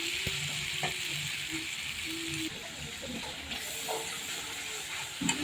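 Pointed gourd and potatoes frying together in a pan, a soft steady sizzle with occasional light stirring clinks, fairly quiet and close.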